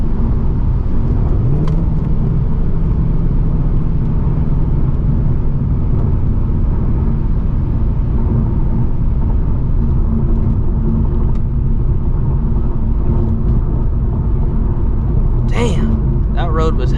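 A 2024 Ford Mustang GT with a V8 drones loudly and steadily as it drives over a rough, bumpy road, the engine rumble and road noise filling the cabin throughout, with a brief rising whine near the start.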